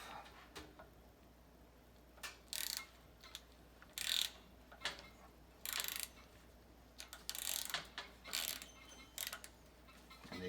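A ratchet works loose the bolts on an old boiler pump motor, giving bursts of quick clicking in short runs between pauses, faint and close.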